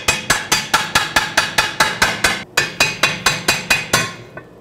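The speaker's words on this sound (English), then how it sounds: "I'm gonna give this some gentle taps because it needs to squeeze in between the threads of the bolt and the backing plate." Hammer tapping a rear brake part on a 2011-2014 Hyundai Sonata between the bolt threads and backing plate, a fast, even series of about twenty close metallic taps with a brief pause midway.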